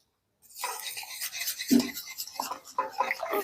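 Powdered milk is stirred into sugar syrup in a pan off the heat for a semolina milk cake, making a gritty scraping and rubbing sound in irregular strokes after a moment of silence.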